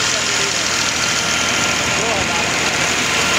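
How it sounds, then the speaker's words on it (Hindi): A Ghazi 65 Power tractor, a 2022 model, runs steadily and loudly close by while powering a thresher for mustard, its engine giving a constant rumbling drone with no pauses. "ट्रैक्टर ghazi 65 पावर 2022 मॉडल है जी।"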